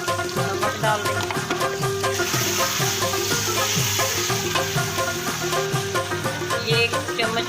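Mutton pieces sizzle and fry in a hot pan while being roasted with salt for Peshawari namkeen gosht, a steady dense crackle with stirring scrapes throughout, no talking.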